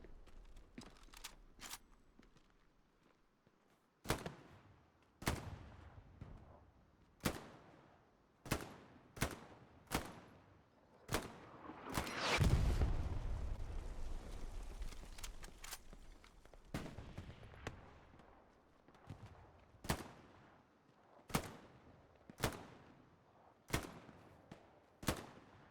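Gunfire in the World War II shooter Hell Let Loose at Omaha Beach, with sharp rifle cracks at irregular intervals, some near and loud, and a heavier blast midway followed by a long rolling rumble.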